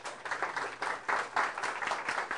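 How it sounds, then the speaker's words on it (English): An audience applauds a speaker at a climate change school session, with dense, steady clapping that fills the room throughout without pause. "I would like to a round of applause to Ezekiel"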